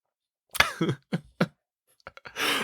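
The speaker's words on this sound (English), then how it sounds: "I coughed" A few sharp coughs close to the mic, broken by short pauses, then a softer throat-clearing rasp at the end.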